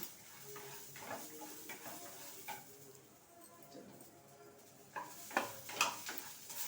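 Green and red chillies sizzle and fry in a pan for curry leaf chutney, a soft steady crackle with scattered stirring clinks and scrapes of a utensil, louder bursts near the end.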